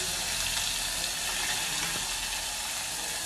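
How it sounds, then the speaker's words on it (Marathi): Mustard seeds crackling in hot oil for a Konkan village dish, a steady dense sizzle and fine popping that holds even and close, with no talk. "मोहरी तडतडून द्यायची, टाकायची आहे."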